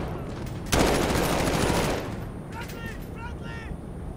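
Sustained gunfire in Call of Duty Modern Warfare, a sudden loud burst of rapid shots that rolls on for over a second before thinning into scattered distant fire and whizzing effects, with speech mixed in.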